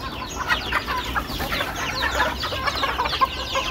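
Free-range chickens are let out of a coop, several hens clucking busily in overlapping bursts close by, with chirpy calls scattered throughout and no talking.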